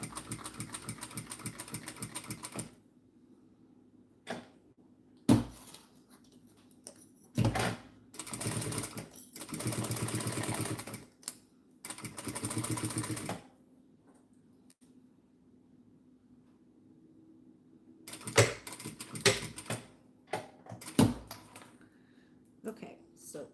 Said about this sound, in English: I'm stitching at 1/4 inch, and I can always cut that down